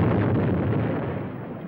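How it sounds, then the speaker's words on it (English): A loud, rumbling explosion roars on for well over a second as one dense, sustained blast, slowly easing off. No one speaks during it. "That explosion is bound to bring a lot of people out."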